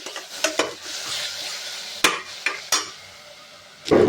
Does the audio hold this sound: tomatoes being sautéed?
yes